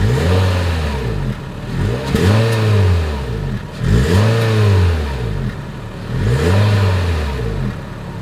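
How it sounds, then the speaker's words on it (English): 2022 Honda HR-V exhaust revved repeatedly from a standstill, four loud rising-and-falling blips in a steady rhythm, close up with no talk. "As always, here is that exhaust clip."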